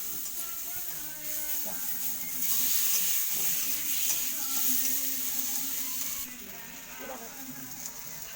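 Turmeric, ginger and tomatoes fry in a pan while being stirred, producing a steady close sizzle and hiss with occasional scraping. A voice is faintly heard in parts.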